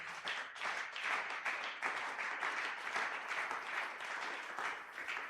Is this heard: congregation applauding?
yes